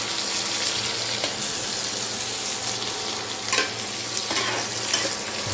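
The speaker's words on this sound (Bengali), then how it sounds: "পেঁয়াজগুলো একটু হালকা করে ভেজে নেব।" Onions frying lightly in a pan for a beef curry, giving a steady, dense sizzle with occasional stirring scrapes, close and continuous.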